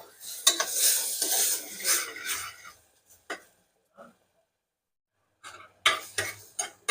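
Dingri mushroom and mixed vegetable bhaji with tomatoes, salt and crushed peanuts sizzles after half a cup of water goes in, with bursts of hissing, stirring and utensil clatter, then quieter scattered clinks and a final flurry.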